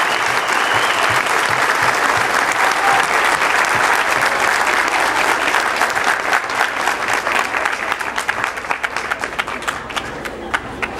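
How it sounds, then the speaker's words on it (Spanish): An audience at a farewell gathering gives loud, sustained applause that continues unbroken for several seconds and gradually thins into more separate claps near the end. "yo quisiera pedirles a todos un aplauso muy fuerte para Dominique"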